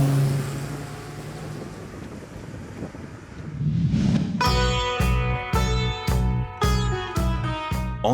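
A classic Italian sports car: a soft rumble and wind rise into loud, sharp engine pulses that repeat in a regular chopping rhythm, like quick revs or gear changes under acceleration, heard close.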